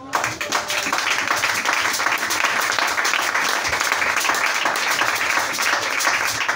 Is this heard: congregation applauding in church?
yes